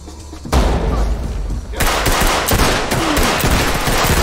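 Dense bursts of gunfire from the tactical shooter Ready Or Not, a loud rapid volley with sharp repeated reports that starts abruptly after a short lull and keeps going, with a voice faintly mixed in.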